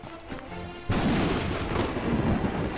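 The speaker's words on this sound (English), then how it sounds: "the lightning just sounds like gunfire" Lightning in the video game K.I.A strikes as a sudden loud crack that swells into a sustained booming rumble, sounding like gunfire and holding heavy and loud to the end.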